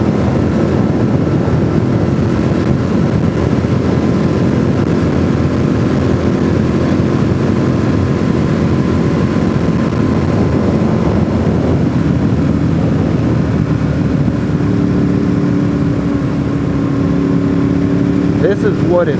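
A motorcycle rides a quiet road toward Deals Gap in November, its engine droning loudly and steadily with wind rush for the whole stretch. A voice talks briefly over it.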